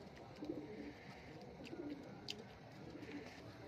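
Faint cooing from high-flying racing pigeons in Hooghly drifts in at low volume, a few soft throaty calls repeating amid quiet background noise.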